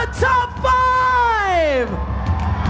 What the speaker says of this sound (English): The crowd is going wild for the top